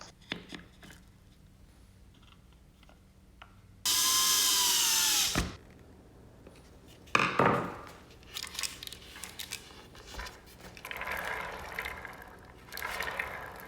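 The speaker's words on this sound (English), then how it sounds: "Then you place and screw the base." A power drill drives screws into the base of a wooden tabletop lazy susan, with one loud sustained whirring burst, then scattered handling knocks and shorter rattly tool noises nearby.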